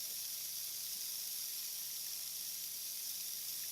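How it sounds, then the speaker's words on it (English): Steady, high hiss of steam escaping from a pressure cooker, constant and fairly close, with no other sounds. "the water that's coming out with the steam isn't spraying on everything"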